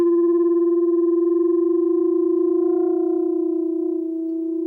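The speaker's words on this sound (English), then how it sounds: "if they have different natural frequencies, and I excite them together, we should have this mechanism called beats" Two sounding pipes, each fitted with a piece of wire screen, are excited together and hold a steady, pure tone. The tone pulses slowly in loudness as beats and fades slightly near the end.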